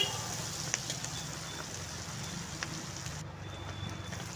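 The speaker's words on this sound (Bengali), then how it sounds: "ভাজতে হবে পেঁয়াজ আর কাঁচা লঙ্কাটাকে" Onions and green chilies fry in hot oil with a steady, even sizzle throughout, with a few faint clinks over the top.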